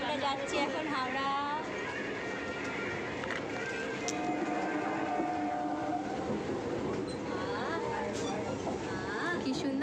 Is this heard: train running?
yes